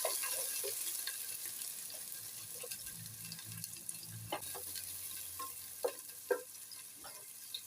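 Chopped onion dropped into olive oil already heated in a pan gives a steady, moderate sizzle with scattered small pops and crackles, plus a low hum underneath.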